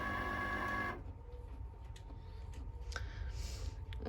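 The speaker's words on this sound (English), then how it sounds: "we're gonna turn on the Cricut machine" A Cricut cutting machine starts running at home during sticker making after a loud printer burst, giving a steady low mechanical whir with faint ticks and clicks, moderately quiet and alone.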